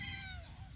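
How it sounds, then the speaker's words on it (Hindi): A small cat outdoors at a house gives a faint, thin meow over a steady low background rumble. "देखो जा रही छोटी बिल्ली"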